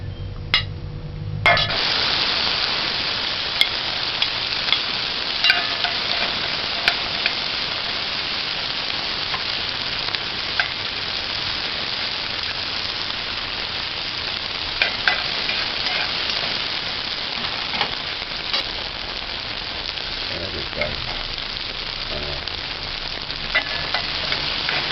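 Diced onions fry in a pan over medium-high heat, producing a loud, continuous sizzle sprinkled with sharp crackles and pops that lasts throughout, with no voices.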